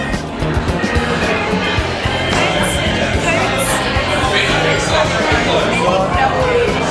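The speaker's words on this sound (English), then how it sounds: "An ugly crowd is now forming by the door." A crowd of customers gathered by a door, chattering in a loud, dense babble of overlapping voices with steady background noise throughout.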